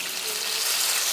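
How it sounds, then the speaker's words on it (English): Water pours steadily into a cooking pot while a vegan kale and beet dish is made, giving a continuous close hiss with no talking. "but right now I'm just gonna add water."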